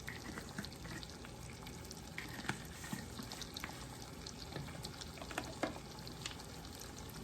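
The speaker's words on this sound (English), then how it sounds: "We're going to saute them in the butter." Vegetables sauteing in butter in a pan for chicken gravy, a steady crackling sizzle with occasional louder pops and stirring scrapes, close and continuous without talk.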